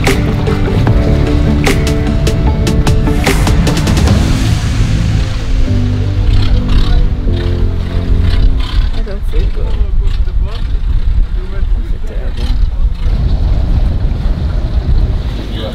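Choppy sea surface off Koh Lipe, Thailand, with steady wind buffeting the microphone and broad washing wave noise throughout, loud and continuous, with some boat rumble and faint voices in the mix.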